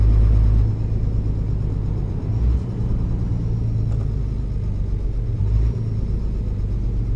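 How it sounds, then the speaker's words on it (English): A truck engine with a sound mod in Euro Truck Simulator 2 on the ProMods map gives a steady, loud, deep rumble with slight swells, with no talk over it. "This engine mod has got a lot of sound to it."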